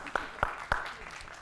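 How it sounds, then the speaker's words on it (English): Soft, evenly spaced claps from a seminar audience at a lighting talk, three distinct hits about a third of a second apart and then fading, a voice faintly audible behind them. "So while we're clapping"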